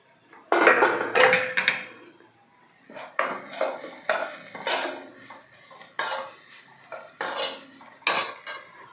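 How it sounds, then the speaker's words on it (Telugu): Ginger garlic paste being stirred in a pan for paneer bhurji, with repeated loud scraping and clinking of a metal spoon against the pan in irregular bursts over a soft sizzle. "అల్లం వెల్లుల్లి పేస్ట్ కొంచెం పచ్చివాసన పోయేదాకా కలపాలి"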